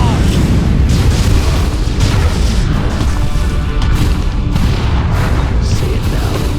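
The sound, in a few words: artillery barrage explosions in video game Dawn of War II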